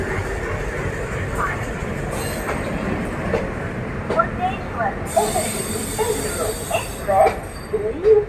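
A train moves through Mangalore Central railway station with a steady rumble and rolling wheel noise, occasional squeals and clicks rising toward the end, while someone talks over it.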